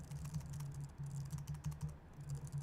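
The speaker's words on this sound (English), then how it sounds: "now I can continue typing that way" Steady typing on a computer keyboard in a graphic design setting, a continuous run of quick, close key clicks with a low hum underneath and no talking.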